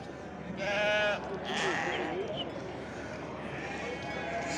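Lambs bleat at a small-livestock market in Çorum, with a couple of clear, wavering calls near the start over a busy crowd murmur and faint hoof clatter.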